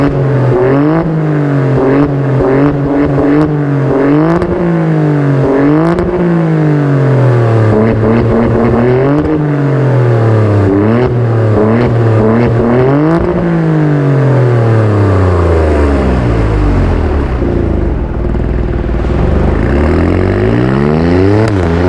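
Alfa Romeo Stelvio Quadrifoglio engine under full throttle in neutral driving mode, loud and close, its roar rising in pitch through repeated upshifts, then falling away with a long sweeping descent, heard alone.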